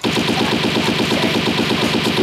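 Rapid automatic gunfire from an auto gun in a Gujarati comedy scene, a loud, continuous burst of closely spaced shots lasting the whole stretch with no talk.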